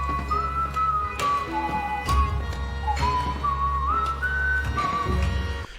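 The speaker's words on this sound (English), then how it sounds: "Okay, so we start with us whistling." Whistled melody over a Warframe soundtrack song, with steady bass and percussion, the tune gliding between held notes and loud throughout.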